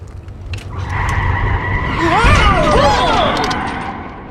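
Car skids to a stop with a long rising tire squeal over engine rumble, swelling to a loud peak in the middle before fading, with no talk.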